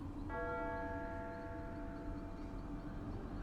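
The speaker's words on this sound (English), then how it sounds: "The bells ring like mad the whole time as you go in there." Church bells ringing from a tabletop Deadlands: The Hell Gate Trilogy session, a single faint ringing peal with lingering tones that sustain and slowly fade over a low, noisy background, without speech.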